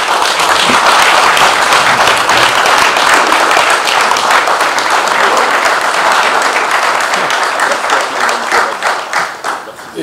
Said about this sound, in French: je souhaite vraiment vivement beaucoup plus d'applaudissements encore